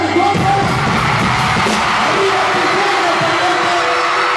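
Loud yelling from a woman in a packed crowd at a concert at the Palenque de Tijuana. The shout rises over constant, dense crowd noise that carries on steadily throughout.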